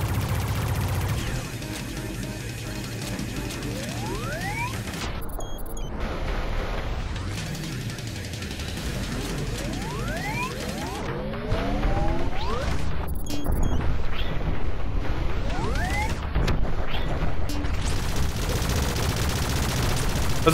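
Laser-style gunfire from the VR shooter Space Pirate Trainer comes in scattered bursts of rapid shots over a steady game soundtrack, growing denser and louder in the second half with brief crashes between volleys.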